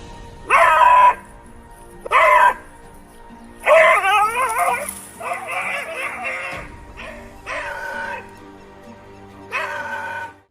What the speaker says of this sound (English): Even after that, it starts barking again.